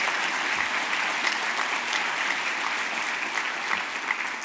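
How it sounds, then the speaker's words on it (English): A conference audience applauds the newly elected board of directors and officers, a steady, even roar of many hands clapping at moderate volume throughout. "Please give a round of applause for the 2026 SLA Board of Directors and Officers."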